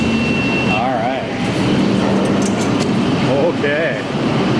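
A New York subway train roars loudly through the station with constant rumbling and squealing, pitch-bending screeches of wheels on rails, while people talk beneath the din.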